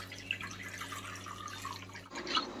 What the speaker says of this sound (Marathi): आता या पिसेसवरती थंड पाणी ओतूया